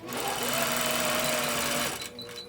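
An APQS longarm quilting machine stitches with a steady, loud mechanical whir and hum for about two seconds, then cuts off, leaving a quieter room with a few faint high chirps.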